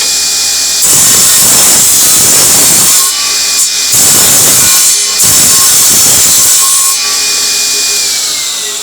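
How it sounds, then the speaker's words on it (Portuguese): A homemade table circular saw, or bench saw, in a home woodworking shop, running loud and close with a steady high whine, broken by several rasping cuts of a few seconds each as the blade bites. "E esta daqui é uma serra circular."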